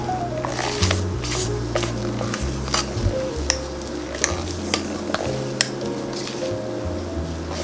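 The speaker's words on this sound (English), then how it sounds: "we are going to scoop and swirl using our spatula" Keto no-churn vanilla bean ice cream mixture scooped and gently swirled with a spatula in a bowl, a steady soft wet scraping with repeated light taps, close and continuous, over a low background hum.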